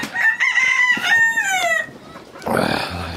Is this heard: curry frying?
no